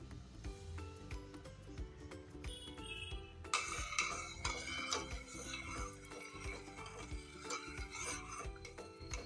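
Spoon stirring rice kheer in a pot over low gas, with repeated metallic scrapes and clinks against the pan, close and moderately loud, plus irregular clatter.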